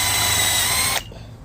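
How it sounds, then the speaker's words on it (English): A power drill with a bit bores off a rivet head on a Thule bicycle carrier, whining steadily at close range for about a second before cutting off abruptly, leaving quiet. "I'm just gonna get a drill with a drill bit, and I'm just gonna try to get the head of this off."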